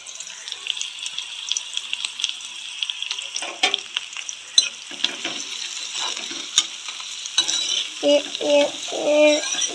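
Slices of raw green plantain fry in a pan with a steady sizzle and frequent stirring clatter close by, and a few voice-like tones come through toward the end.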